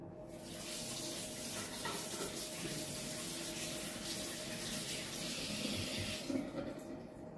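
Tap water running steadily into a sink while hands are washed in a rental apartment, a continuous close hiss and splash with small shifts as the hands move under the stream, no talking.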